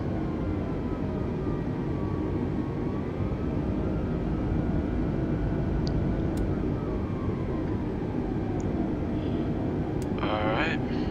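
An airliner in Microsoft Flight Simulator rolls for takeoff on runway 21 right, a continuous loud, steady engine roar with a rising whine that runs through the whole stretch, with a little speech and a few faint clicks near the end.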